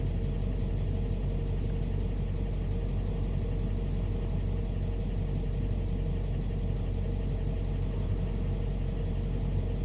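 A 2008 Chevy Express ambulance idles with the driver's foot off the gas, giving a steady, loud, low engine rumble that holds unchanged from start to finish with no voices.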